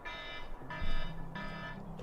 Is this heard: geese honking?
no